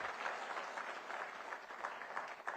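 An audience at a health conference gives a brief burst of steady applause, a dense, even patter of clapping heard from a distance for a couple of seconds.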